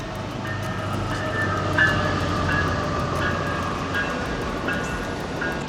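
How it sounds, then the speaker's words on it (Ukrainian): A train passes on the rails, a loud continuous rumble with rhythmic wheel clicks and faint squealing throughout, heard close and steady with no talk over it. "Їде потяг, братани."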